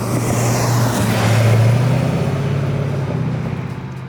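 A 1970 Chevy Chevelle pro-touring car with an LSX V8 drives past with a deep, loud engine rumble that swells briefly under acceleration and then eases as the car settles into a steady cruise.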